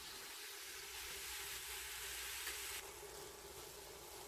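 Hamburger meat browns inside a Power Pressure Cooker XL, giving a faint, steady hiss of sizzling that stays even and continuous throughout with no voices.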